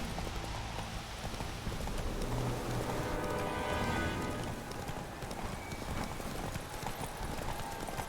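Horse hooves clip-clop at a steady gallop in The Witcher 3: Wild Hunt, continuous and fairly loud throughout, with a brief whinny and background game music.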